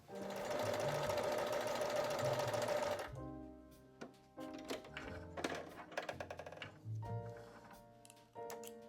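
A sewing machine runs fast and steady for about three seconds while stitching quilt blocks together for a quilted Christmas stocking. Close, clicking handling sounds and short stitch bursts follow.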